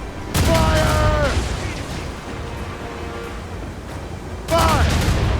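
Ship cannons fire in Assassin's Creed Rogue, a video game: loud booming volleys burst near the start and again near the end, with a rumbling tail between them and shouted commands over the blasts.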